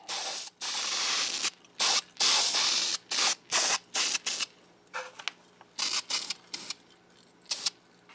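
Spray paint can hissing onto a WWII German armour scale model, in repeated short and longer bursts with brief pauses between them, close and fairly loud, with no talking.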